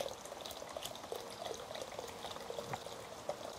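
Vegetable broth poured into a pot on a Plow Disc cooker, a faint, continuous liquid splashing and trickling with small bubbling pops throughout.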